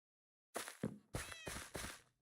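A Minecraft cat meows in a quick run of three or four close, loud calls, clear and alone after a brief silence.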